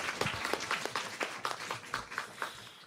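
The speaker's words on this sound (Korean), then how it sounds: "목사님 등단하실 때 박수로 우리 귀하게 환영하도록 하겠습니다" A high-school church congregation applauds to welcome a pastor to the stage, with dense, steady clapping from many hands heard for a few seconds and faint voices underneath.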